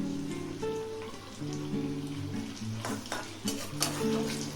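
Banana koftas dropped into hot oil give off a soft, crackling sizzle with a few sharp pops, heard under steady background music.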